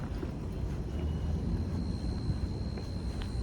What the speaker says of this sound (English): And here comes a plane going in for a landing.